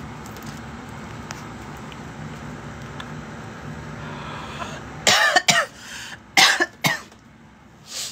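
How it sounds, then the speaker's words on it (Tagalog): A person coughs in several sharp bursts, loud and close, after a stretch of quiet room noise with faint background hum. "At ba ako inuubo?"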